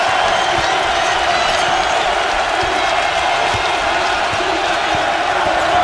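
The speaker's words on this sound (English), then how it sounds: "the crowd going wild here" A basketball arena crowd at an LSU home game cheers in a loud, continuous roar with scattered whoops, sustained without a break.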